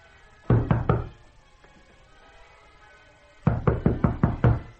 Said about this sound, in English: You're wasting your time knocking